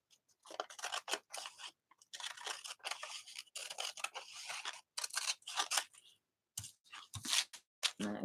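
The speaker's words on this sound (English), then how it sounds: "I'm going to cut that off." Scissors snipping through paper to fussy cut words for an art journal, a rapid series of close, crisp cuts in uneven bursts with short pauses between.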